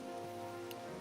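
Rain falling in the video game Minecraft, a soft, steady patter of fine drops, quiet and continuous, alone without voices.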